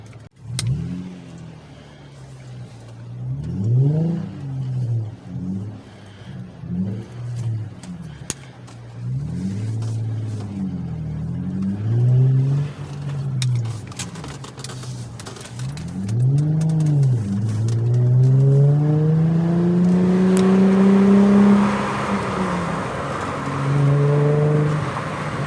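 Infiniti G35 coupe with an ISR Y-pipe exhaust driving, the engine rising and falling through repeated revs and gear changes, then a longer, louder pull that climbs steadily before easing off, heard close and with no talk.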